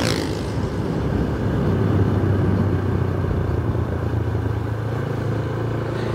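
A motorbike rides along the Sibi road between Quetta and Nasirabad in Balochistan, its engine a constant loud drone mixed with rushing wind noise, steady and close for the whole stretch.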